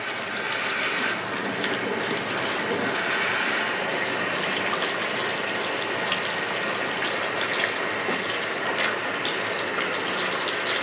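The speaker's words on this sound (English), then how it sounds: "rinse out the perm lotion" Tap water runs steadily in a salon sink while perm lotion is rinsed out of hair, a close, continuous hiss and splash with small shifts as the stream moves.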